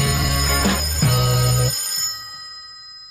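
A telephone rings in a drama scene where a call arrives unexpectedly, a bright electronic ring with steady tonal bursts that holds for about two seconds before cutting off, leaving a quiet hum.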